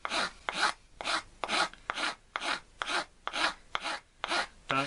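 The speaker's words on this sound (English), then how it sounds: "just feel it scraping across and almost like planing that old glue, Scotch glue off" Rhythmic scraping of old Scotch glue off a wooden Sorrento box held on a knee, with about ten steady rasping strokes close up, each one a planing-like pass across the wood, and no talking.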